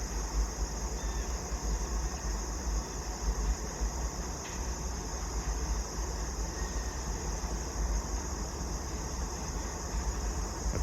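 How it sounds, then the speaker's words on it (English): A loaded freight train rolls past under dynamic braking, a steady low rumble and broadband roar held at a constant level throughout, with no voices. "He's coming down through there. He's on his dynamic braking,"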